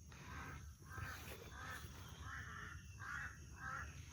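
Crows caw again and again at a distance, a run of harsh repeated calls over steady outdoor background noise.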